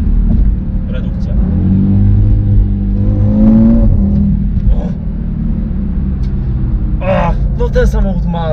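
A 400 HP Audi RS3 downshifts and revs, its engine note rising and falling in a loud, close surge of acceleration, with someone talking over parts of it.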